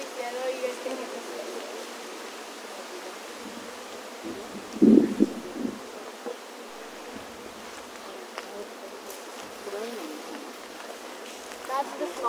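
A close, steady honeybee buzz hums throughout as the bee wrestles a small hive beetle, with a few louder rustling bursts midway.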